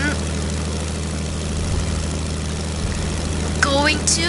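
Propeller airplane engine droning steadily in a video game, a constant low hum with a slight rise in level toward the end and brief higher tones near the close.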